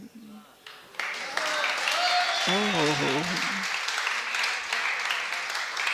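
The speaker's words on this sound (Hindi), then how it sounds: "ताली से ऐसे बजा रहे हो जैसे कहीं बिल्कुल क्लास से पढ़ के आए हो ताली बजाना" Applause from a seated audience at a stone Jain temple gathering, a steady broad wash of clapping that swells after the first second and continues throughout, with someone speaking over it.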